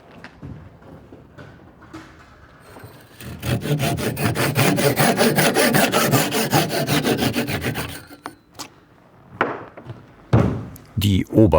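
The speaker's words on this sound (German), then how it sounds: "Dann muss ich in Längsrichtung sägen, dass ich keine Kratzer mache." Historic wood on a bell tower is hand sawn lengthwise in a long, loud run of rhythmic rasping strokes, followed by a few sharp knocks and clatters as the saw and workpiece are handled.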